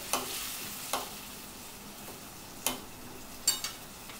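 Fish simmering in a pan of water, a low steady bubbling hiss with a few soft clinks and taps of a utensil against the pan at irregular moments.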